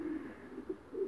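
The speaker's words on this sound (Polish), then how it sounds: "tu gołąbki na oblocie w piątkowym przygotowaniu" Pigeons coo nearby in a short series of soft, low, throaty calls, three or four pulses in about a second, with no talking.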